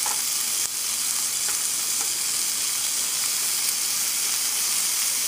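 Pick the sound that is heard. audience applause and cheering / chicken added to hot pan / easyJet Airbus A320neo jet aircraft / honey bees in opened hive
chicken added to hot pan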